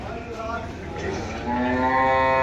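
A young water buffalo at the Dhanaula livestock market lows with a deep, drawn-out moo that swells louder toward the end over a low background of market bustle.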